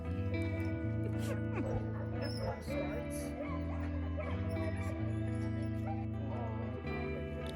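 Sled dogs at the Chena kennels in Alaska, some of them Iditarod runners, bark and yip in scattered bursts. The calls sit over steady background music and continue throughout.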